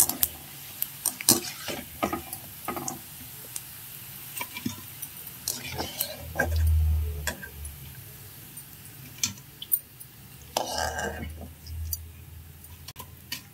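Oil sizzles steadily around dried vathal frying over medium heat, with scattered clicks and taps of a utensil against the pan and a brief low thump midway.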